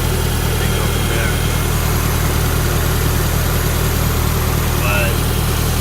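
A Toyota MR2 turbo engine idles steadily while warming up, a loud, continuous low drone with constant vibration for the whole stretch and no revving.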